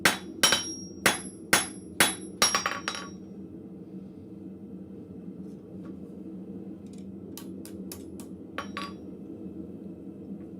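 A hammer rings sharply on hot steel at a blacksmith's anvil while forging a taper, about seven evenly spaced metallic strikes followed by a quiet pause, then a few lighter clinks near the end.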